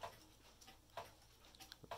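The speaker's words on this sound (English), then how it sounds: "the ticking of this clock is pretty loud" A mechanical clock, one that runs for 30 hours, ticks loudly and close by in a steady, regular rhythm of sharp clicks, with no voices over it.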